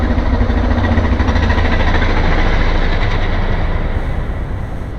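Dual-sport motorcycle engine running close by, a loud, steady low rumble that holds evenly throughout and eases slightly near the end, no talk.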